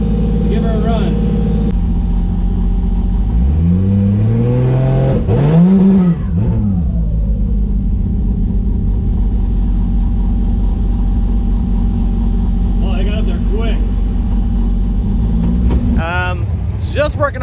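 A 9-second Datsun drag car, set up with nitrous, revs hard and accelerates on a run. Its loud engine note sweeps up and down through rising pulls, and voices come through at moments.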